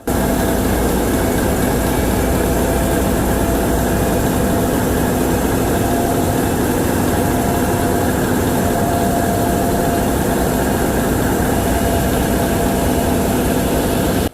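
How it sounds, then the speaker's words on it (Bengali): Steady, loud Caterpillar marine diesel engine drone on a launch at about 530 rpm, with a deep low rumble and constant mechanical hum, running continuously without change and no voices. "ইঞ্জিনকে এখন 528 530 আরপিএমে চালানো হচ্ছে।"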